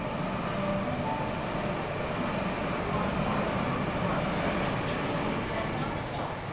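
A Sydney Waratah electric passenger train runs past a station at Stanmore, making a steady, loud, broadband rumble and hiss that holds for the whole stretch, with faint high squeals rising above it.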